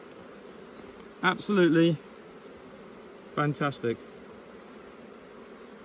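Honey bees humming steadily at a hive opened to frames of brood during spring splits, a continuous low buzz running beneath two short bursts of a person talking.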